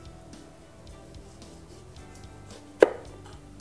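A single crisp knife chop lands on a chopping board while a chef trims a vegetable away from its seeds and membrane, one sharp near strike rising out of a quiet room tone.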